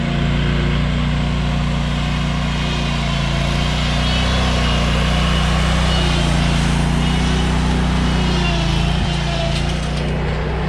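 A green riding lawn mower's small engine drones continuously and loudly in a residential yard, a steady buzzing hum with no breaks.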